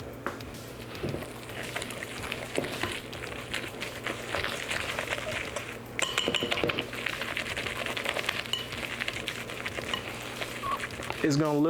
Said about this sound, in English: I'm just kind of mixing it up so that this mixture becomes a little bit more smooth